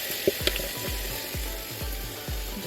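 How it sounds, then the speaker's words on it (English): Homemade orange chicken sauce pours over chicken cooking in a hot pan, producing a steady sizzle and bubbling with repeated crackling pops throughout, close and fairly loud, with no talking. "I'm going to pour my sauce I made for the orange chicken on top"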